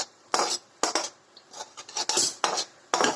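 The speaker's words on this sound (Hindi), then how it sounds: "अब इसमें मैदा डाल दो और इसे मिक्स करते रहो।" A utensil scrapes and clatters against a pot as flour is stirred into oil, in short bursts of metallic scraping separated by brief pauses.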